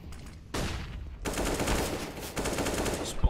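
Rapid automatic gunfire from an RPK in the video game CS:GO, with dense bursts of shots at close range that start, pause briefly and then resume, heard without talk.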